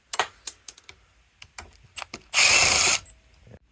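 Tools work on an old threaded dual-crown bicycle fork and handlebars: a run of sharp ratcheting clicks and metallic taps, then a brief loud hissing burst before more scattered clicks.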